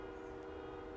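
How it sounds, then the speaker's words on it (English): A faint, steady train horn sounds from far away, a sustained tone over low background noise. "There's like train horns and car horns"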